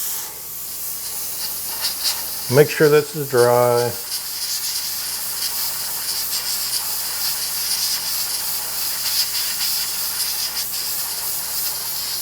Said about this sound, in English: Spray one more coat on it.